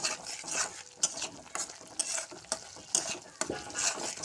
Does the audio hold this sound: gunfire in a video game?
no